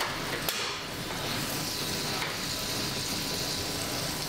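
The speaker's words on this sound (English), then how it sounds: "You can see how nicely it's sizzling." Butter sizzling in a frying pan still hot from frying mushrooms, a steady soft crackling hiss with a faint tap near the start, heard close with no talking.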